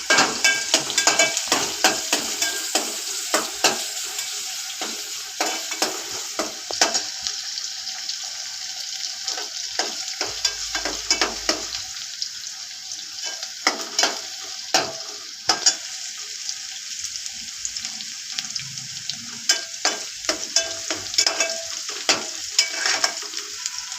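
Onion and curry leaves fry in a pan with a continuous sizzle broken by frequent sharp stirring clatters and scrapes. It is close and fairly loud throughout, with no voices.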